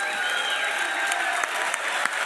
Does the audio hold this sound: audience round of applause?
yes